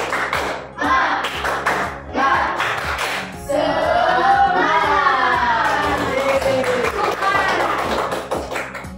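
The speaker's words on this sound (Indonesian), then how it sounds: "1, 2, 3. Tepuk semangat." Young schoolchildren in a combined-grade class perform a spirit clap, tepuk semangat: a few sharp collective claps in rhythm, then a loud burst of excited shouting and cheering from the whole room.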